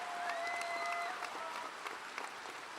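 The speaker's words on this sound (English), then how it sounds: "we're going to give you a round of applause" A university undergraduate commencement audience gives a round of applause, a fairly faint, distant wash of clapping from a large crowd, with a brief whistle-like tone sliding across the first second.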